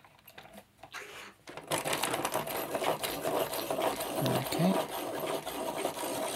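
A pencil sharpener grinds a pencil. After a quiet start and a brief spoken word, a steady, close rasping whir takes over for the rest of the clip.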